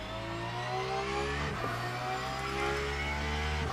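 A race car engine in the Le Mans Ultimate racing game holds a steady, loud drone with layered harmonic whine, revving slightly and then settling, with no voices.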